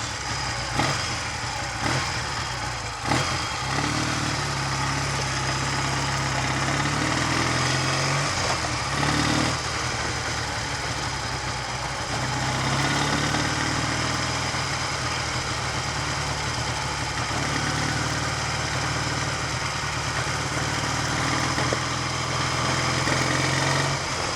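A Triumph Tiger 100 motorcycle engine runs steadily on a test ride, giving a continuous close throttle rumble that rises and falls slightly with revs. Brief knocks sound early on.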